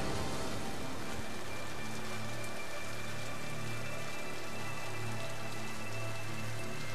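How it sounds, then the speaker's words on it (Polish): Steady rain falls in the video game Mass Effect 2, a dense continuous hiss of drops on surfaces with a low rumbling ambience beneath it, constant throughout. "Obowiązkowo padający deszcz, ponura atmosfera."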